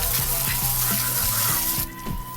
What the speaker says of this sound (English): Always hose off thoroughly with the degreaser.